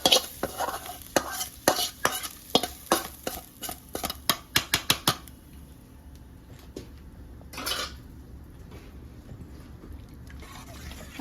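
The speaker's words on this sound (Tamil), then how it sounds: "இதெடுத்து அந்த மாவில் போட்டு கலக்க போகிறோம்." A spoon clatters quickly against a bowl while semiya rava idli batter is mixed, a fast run of sharp knocks that stops halfway, leaving quiet room tone and one soft scrape.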